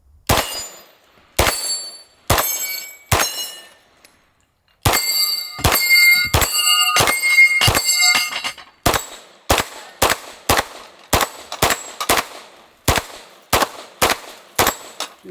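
9mm pistol shots ring off steel targets as sharp clangs: a few spaced hits, a pause, then a rapid string of shots with overlapping metallic rings, followed by steady, evenly paced single shots.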